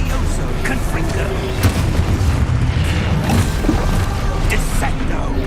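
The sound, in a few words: Confringo explosion spell in video game Hogwarts Legacy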